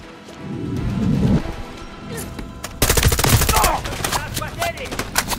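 Bursts of automatic gunfire from a squadmate in Call of Duty: Modern Warfare 3, rapid close cracks that start around the middle and continue in dense volleys, with a voice talking over the shooting.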